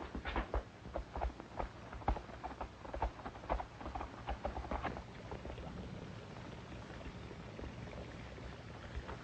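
Horse hooves clip-clop in an old Western ranch-town setting, with several close, irregular hoof knocks in the first few seconds before they fade into a steady background hiss.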